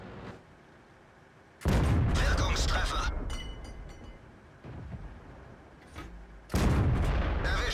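Tank cannon fire in the World of Tanks video game, with loud booming blasts in several bursts, the strongest near the start and end, over a rumbling battlefield background.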